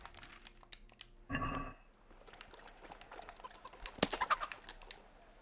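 Chickens in Kingdom Come: Deliverance give a short burst of clucking and flapping, then scattered soft clucks and a sharp impact with flurried squawks, all fairly faint against quiet background.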